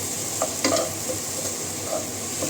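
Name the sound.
frying in a pan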